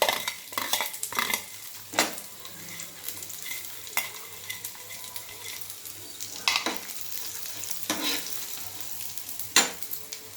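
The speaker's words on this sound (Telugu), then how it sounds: "ఎండుమిర్చి వేసి బాగా కలపాలి. అందులోనే 2 స్పూన్ల ధనియాలు వేసి బాగా వేగనివ్వాలి." Dry red chillies, fried chana dal and coriander seeds roasting in a pan for ginger pachadi, a soft dry sizzle broken by repeated scraping strokes of a spoon stirring every second or two, no voices.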